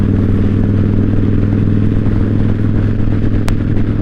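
Yamaha Raider motorcycle engine running steadily while riding, a loud continuous low drone with a smooth, unstrained tone and no speech.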